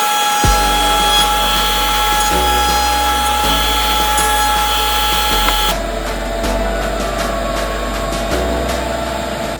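A power tool, likely a router, rounds over the sharp edge of a wooden measuring gauge with a loud, steady high-pitched whine, its tone dropping and surging in several passes. There is no talk.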